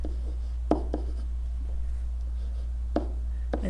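Pen or marker writing a math formula by hand, a run of soft scratching strokes with a few sharper taps, over a steady low electrical hum.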